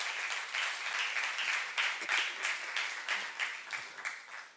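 A church youth congregation claps together during a sermon, a dense, even wash of applause that carries on steadily for several seconds, soft in level and without talk.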